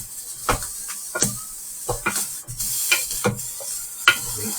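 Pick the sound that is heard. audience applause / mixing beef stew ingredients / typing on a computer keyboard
mixing beef stew ingredients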